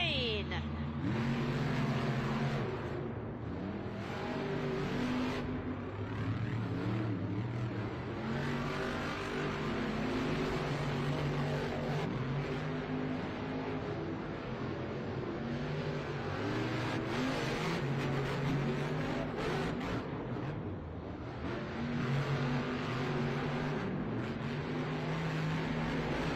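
Monster Jam monster trucks, Grave Digger against a rival, race at a Minneapolis stadium event, their engines roaring and revving loudly and continuously over crowd noise, with an announcer talking throughout.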